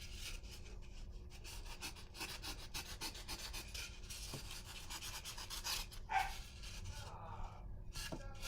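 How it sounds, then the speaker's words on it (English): Dogs scuffle over cookies in a room, with steady panting, rubbing and rasping noises running throughout and a brief louder yelp or growl near the end, over a constant background hum. "that is the dogs arguing over cookies"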